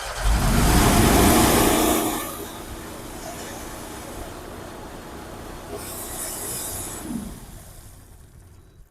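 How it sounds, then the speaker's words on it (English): Loud roar of two engines running on an American Jetter 51T Series hot water jetter, surging at first, then settling into a steady running drone with a second swell near the end. "Crank up 2 engines with hot water."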